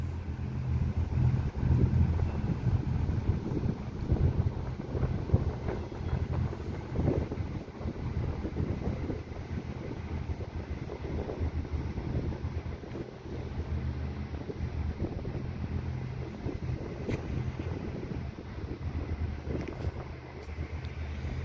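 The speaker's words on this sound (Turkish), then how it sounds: "Hava biraz rüzgarlı." Steady low rumbling wind buffeting a microphone throughout, loud and continuous with no voices.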